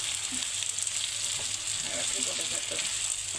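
Chopped tomatoes frying in a curry with potato, a continuous bright close sizzle with soft stirring clatter partway through and no speech over it.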